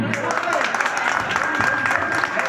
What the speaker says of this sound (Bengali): আপনারা সবাই করতালি দিন।